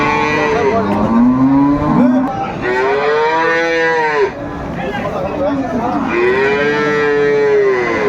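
Dairy cows and calves at a busy rural cattle market in Dinajpur, Bangladesh, low drawn-out moos repeating close by over a constant crowd murmur, with people talking nearby.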